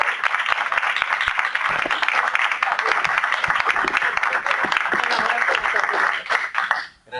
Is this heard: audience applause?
yes